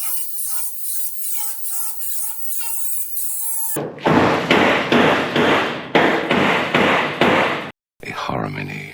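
A hammer bangs on the door of a 1971 Mustang being cut up for a hand-built widebody, a run of loud, evenly spaced metallic blows, preceded by a stretch of other sound and followed by a brief pause.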